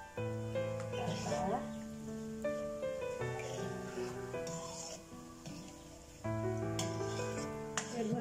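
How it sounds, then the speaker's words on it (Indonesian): Palm sugar being stirred in a pot while cooking bubur sumsum: soft scraping and light stirring movements with a faint bubbling sizzle, quiet and steady beneath a voice and background music. "Kita aduk biar gula merahnya"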